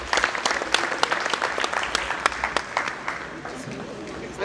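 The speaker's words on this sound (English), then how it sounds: "I personally think that Professor Okoro's round of applause should be much louder" Conference audience at a national stakeholders' meeting on community participation in schools applauds, sustained crowd clapping with sharp individual claps standing out, fairly loud and steady throughout.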